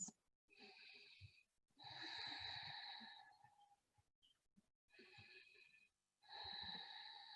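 Slow, deep breaths during a yoga pose, with several long, breathy inhales and exhales separated by short pauses, quiet and close.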